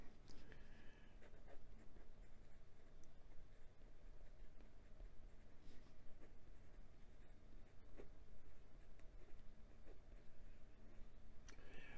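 Penbbs 456 black vacuum-filler fountain pen with a fine mini fude nib writing on paper, a soft continuous scratching of nib strokes running steadily through the stretch with no talk.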